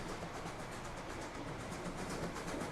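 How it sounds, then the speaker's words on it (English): Train rolling along a track in the Transport Fever railway game, a steady continuous rumble with faint rhythmic clatter, moderately quiet and unbroken, with no talking. "the New York City Central train is crossing over"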